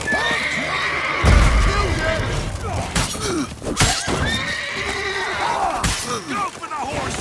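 Horse neighing in The Witcher 3 in Toussaint, with several whinnies rising and falling over busy battle noise, a heavy thud partway through, and someone shouting in character alongside.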